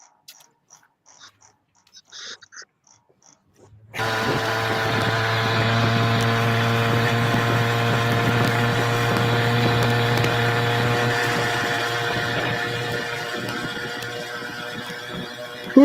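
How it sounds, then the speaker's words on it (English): A small PK80 engine starts up after a few quiet knocks and then runs at a steady, loud, droning buzz with a strong low hum for the rest of the clip. "Looks like a little PK80 engine."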